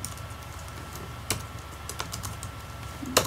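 A computer keyboard is typed on in a few sparse, sharp keystrokes spaced over a few seconds, close and clear against a quiet background hum, with no talking.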